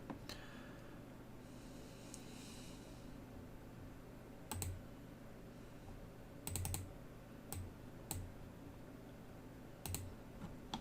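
Typing on a computer keyboard, a few faint, sparse key clicks spread over a quiet room background with long pauses between them, no talking.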